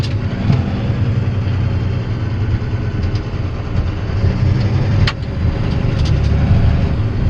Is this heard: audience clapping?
no